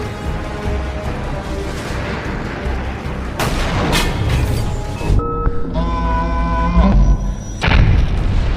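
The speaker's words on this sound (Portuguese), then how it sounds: "acertando uma de suas hélices e fazendo cair em uma explosão de faíscas" Loud booming blasts and heavy impacts thunder over a dense, dramatic musical backdrop, with several bursts clustered in the middle.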